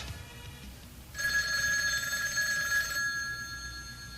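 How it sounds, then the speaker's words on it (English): A telephone bell rings once in a sustained burst of about two seconds, loud and close, then stops, leaving a low room hum before and after. "Master Stuntman Jack Edison picks up a ringing phone."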